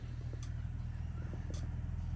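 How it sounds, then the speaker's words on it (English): A truck coming up a rural driveway produces a faint, low engine rumble that holds steady in the background of an otherwise quiet setting, with no speech. "I hear a truck coming up the driveway"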